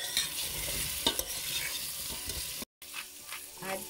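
Cubed squash tipped into a pan of sautéing onion, grated ginger and garlic gives a steady close sizzle with stirring scrapes, briefly cut to silence before the frying resumes.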